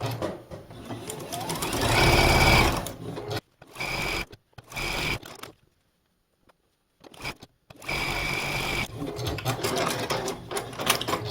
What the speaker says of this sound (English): just sew the base onto the tree and then sew the top little section onto the block